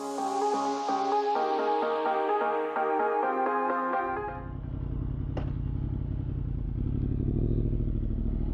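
A Yamaha motorcycle rides up the A593 road in the Lake District, its steady engine drone and road rumble taking over midway after a burst of tonal music and continuing loud and close to the end.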